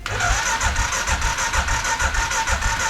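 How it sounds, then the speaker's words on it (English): An Arctic Cat 500 ATV engine cranks with a steady, pulsing starter rhythm, loud and close, repeating through the whole stretch without firing up, on a weak battery. "Turn the key on to start. And I'm praying she cranks over."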